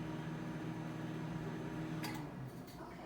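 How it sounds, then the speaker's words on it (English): Toshiba ML-EM34P(SS) smart countertop microwave oven running, a steady close hum with a low mechanical drone and a few brief faint clicks near the end. "Alexa, set microwave for 1 minute. Oh, and it turns on."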